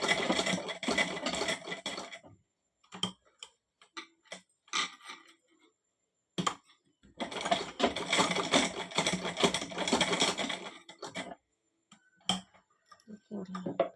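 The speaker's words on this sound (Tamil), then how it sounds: "நம்ம வந்து மிஷின்லேயே வச்சு இப்படி தையல் திருப்பி திருப்பி தையல் போட்டுக்கோங்க." A tailoring sewing machine stitches back and forth on an underwear seam in two long rapid whirring bursts. Short pauses between them are filled with isolated ticks and clicks of the mechanism.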